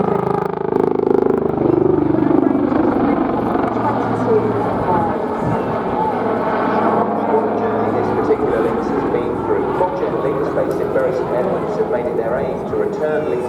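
A Lynx helicopter powered by two Rolls-Royce Gem turboshafts flies at a seaside airshow, its steady rotor and turbine drone filling the background while an announcer talks over it the whole time.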